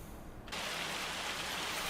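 Rain starts falling on a countryside farm in Farming Simulator 25, a sudden switch to a steady, dense hiss of rainfall that stays constant and fairly loud.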